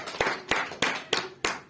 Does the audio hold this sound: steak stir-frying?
no